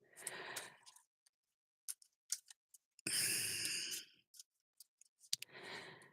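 A large deck of oracle cards being shuffled by hand, giving bursts of riffling and flicking at the start, middle and end, with quiet gaps and small taps between them.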